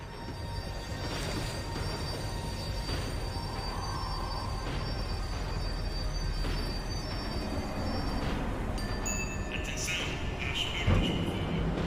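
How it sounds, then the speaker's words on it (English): A tram slows down in the Max Payne 3 video game, a continuous rumble of rolling wheels with metallic squeals and rattles, ending in a clunk near the end. "The tram was slowing down, and I'd only just gotten on board."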